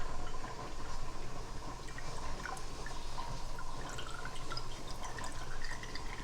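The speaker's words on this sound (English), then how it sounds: "we're going to drain the liquid out of these pears" Liquid from home-canned pears draining steadily into a container, a continuous close trickle and splash with faint drips, running unbroken throughout.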